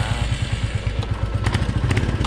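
A Royal Enfield Classic or Meteor motorcycle engine thumps in a steady, rapid single-cylinder beat while gears are shifted, loud and close, with a few clattering knocks from the gearbox.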